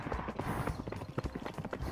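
Horse galloping in the Horse Simulator VR game, a quick run of close, loud hoofbeats drumming in an uneven rhythm, with no talking.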